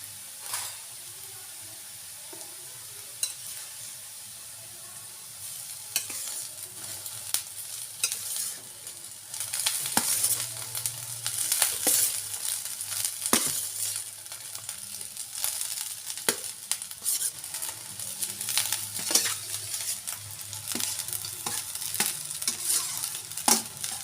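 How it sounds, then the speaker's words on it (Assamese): Rice is tossed and stirred in a hot pan for paneer fried rice over lowered heat, a continuous sizzle broken by repeated scraping and clinking of the spatula, no voices. "এতিয়া মই খুব ভালদৰে ওপৰতল কৰি ল'ম চাউলখিনি"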